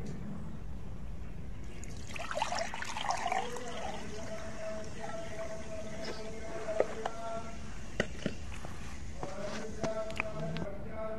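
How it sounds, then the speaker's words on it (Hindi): Water from a one-litre measure is poured onto finely ground blue vitriol, a soft trickling and splashing fill with faint clinks, heard without speech over a low room hum. "अब आपने इसमें 1 लीटर पानी डाल देना है।"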